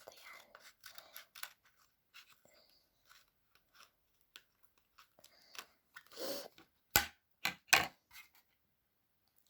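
Scissors snip through a homemade surprise package in a series of short, crisp cuts, the loudest clustered near the end, with quiet rustling and handling between them.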